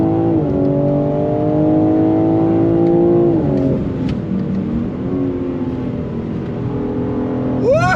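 A 2022 BMW M3 with xDrive all-wheel drive accelerates hard on a track, its engine note loud and close, climbing in pitch and then dipping briefly as it shifts before pulling again.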